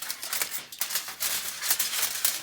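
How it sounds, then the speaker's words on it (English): Aluminum foil being cut into a sizable chunk with scissors for a textured tree craft, giving a run of close, crisp crinkling snips and rustles that keep going irregularly. "So for the first one, I'm going to cut a pretty decent chunk out of it."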